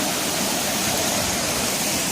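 Melincourt Falls in South Wales pours in a dense, constant roar of falling water, close and loud with no voices.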